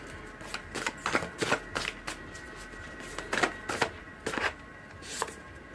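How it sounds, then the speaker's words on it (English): Tarot cards are shuffled in quick riffling bursts, soft papery flutters and taps coming in irregular clusters, close and fairly quiet, with no voices. "I'll keep shuffling"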